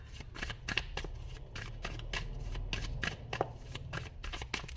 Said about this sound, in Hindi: इसको शफल कर लेती हूँ